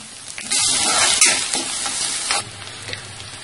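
Small onions and curry leaves sautéing in hot oil for a black chickpea kuzhambu, a loud close sizzle that flares up as they go in, then settles and fades with stirring.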